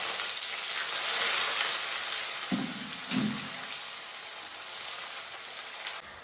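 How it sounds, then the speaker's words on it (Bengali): Sliced onions hit hot oil with cinnamon, cloves and cardamom in a non-stick pan for Kolkata-style mutton kosha, giving a steady close sizzle and crackle throughout, with two brief low clunks of stirring partway through. "মশলাটা ভালোভাবে ভাজা ভাজা হয়ে আসলে সুন্দর গন্ধ বেরোলে দিয়ে দিচ্ছি এর মধ্যে দুটো করে রাখা পেঁয়াজটা"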